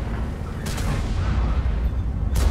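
A tank cannon fires twice in a tank video game featuring the E 50 M, two sharp booms separated by about two seconds over a constant rumbling engine drone.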